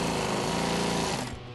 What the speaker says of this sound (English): I'm just sewing lines for a custom order. They wanted 1-inch pleats.